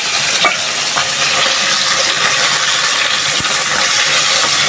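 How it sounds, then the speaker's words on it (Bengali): Small fish frying with chepa shutki, blended dried chilli, onion and turmeric paste in a pan, a steady loud sizzle with occasional stirring scrapes throughout, no voices. "মাছগুলো হালকা একটু বেজে তারপরে যে মশলাটা ভালোভাবে কষায় নিচ্ছি"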